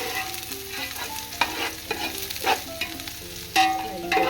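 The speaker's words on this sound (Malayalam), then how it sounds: "ഈ ചൂടായി വന്നിട്ടുണ്ട്, നമുക്ക് അരിഞ്ഞു വെച്ച് സവാള ഇട്ട് കൊടുക്കാം." Chopped onions frying in hot ghee for ghee rice, a close, continuous sizzle punctuated by louder stirring scrapes and knocks of a spoon against the pan.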